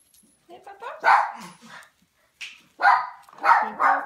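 Four-week-old puppies give high-pitched yips and short barks in close, bursty clusters with brief quiet gaps between them.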